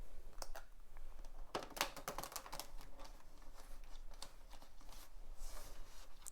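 Tarot cards are shuffled by hand in a quiet room, giving a series of soft, irregular riffling and flicking bursts close by with no talk.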